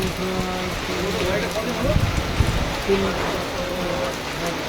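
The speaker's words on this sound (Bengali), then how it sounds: "আজকে একেবারে অরিজিনালিটি বৃষ্টি হচ্ছে আপনাদের চোখের সামনে" Heavy rain pours down steadily in Rupnarayanpur, a dense continuous hiss of drops on surfaces with a faint voice in the background.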